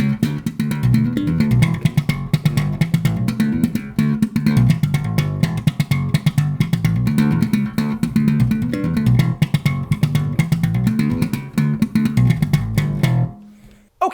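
A nasty slap bass riff driven by the thumb at full speed, dense percussive low thumps and pops in a relentless fast groove for about thirteen seconds before stopping.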